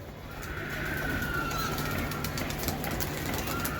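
A pair of Giribaj high-flyer pigeons cooing steadily up close, with a constant low hum and bright hiss in the background.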